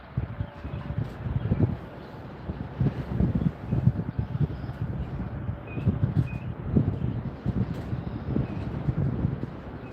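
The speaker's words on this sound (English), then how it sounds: "And it's windy again." Wind gusts buffet the microphone at an outdoor archery range, making uneven low rumbling bursts that rise and fall throughout. Faint birdsong sounds in the background.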